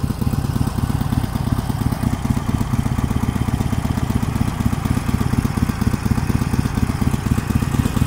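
A motorcycle engine idles steadily at close range, a fast even low-mid putter with light clatter, while a learner rider works the clutch friction zone; no talking is heard.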